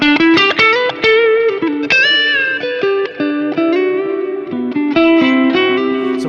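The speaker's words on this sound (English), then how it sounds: "There's a bit of reverb at the board that I don't normally have on." Electric guitar played through a pedal board with reverb added at the board, with distortion and effects; a steady stream of sustained, ringing notes and changing chords fills the passage loudly with no talking.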